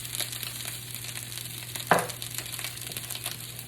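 Eggs fry in a well made in a pan of vegetable fried rice, giving a steady close sizzle with faint crackles and one sharp scrape or clack near the middle.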